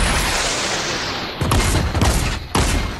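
Shotgun blasts in a battle royale video game: steady rumbling gunfire fills the background, punctuated by two sharp, loud booming shots about a second apart, close and unaccompanied by talk.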